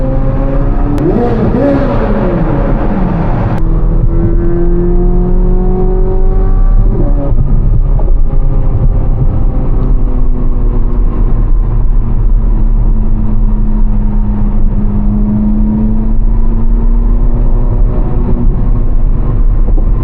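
A Chevrolet Corvette C8 Z06 engine revs hard to a high pitch, then settles into a loud, sustained roar with rising and falling pitch, close by.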